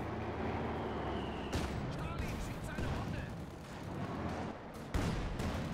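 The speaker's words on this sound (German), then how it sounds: "Schuss durch die Hecke." Gunfire crackles across a Company of Heroes 2 battle, with sharp bursts of shots standing out over a steady din of combat while a commentator talks.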